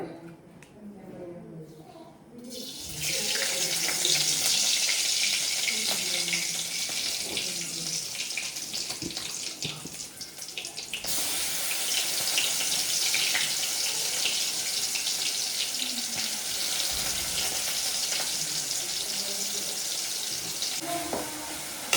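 Tap water runs steadily into a kitchen sink as hands are washed during cooking, a broad continuous splashing hiss that starts after a brief quiet moment and fills the rest of the stretch at close range.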